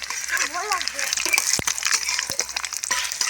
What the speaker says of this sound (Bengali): এই দিয়ে দিলাম পাঁচ ফোড়ন ছড়িয়ে এবার একটু নাড়িয়ে নেবো